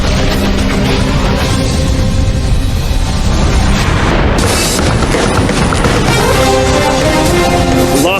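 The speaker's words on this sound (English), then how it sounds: "Las Vegas when two neighboring propane factories go up in flames" Massive fireball explosion as two neighboring propane factories in Las Vegas go up in flames, a loud sustained roaring boom with rumbling blasts and crackling debris rolling on without pause.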